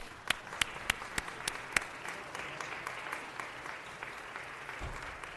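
A small audience at a city council meeting claps: a few distinct, separated claps at first, then a soft, scattered round of applause in a roomy space, fairly faint.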